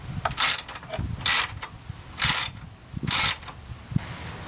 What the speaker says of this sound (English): Michael, give me one of those wrenches.